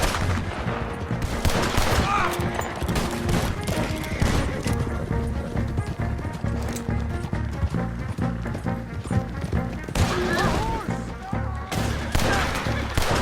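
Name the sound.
gunfire from a shootout in the video game Red Dead Redemption 2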